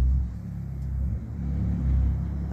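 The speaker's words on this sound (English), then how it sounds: "there's a car coming, so she'll just run for a moment" A car passes on a quiet road and turns round, its engine a low rumble that swells, eases and swells again at moderate distance, with no one speaking.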